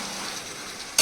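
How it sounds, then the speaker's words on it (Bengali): Mutton curry is stirred and mixed in a hot pan, a short stretch of soft steady sizzling that ends in a sudden louder burst of frying noise. "চলো এবার আমি ভালো করে মিক্স করে নিই"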